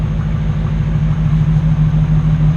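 A 2009–2016 Ram pickup idles through a Carven dual exhaust kit, a deep steady low rumble with a faint pulsing throb, close and continuous with no talking.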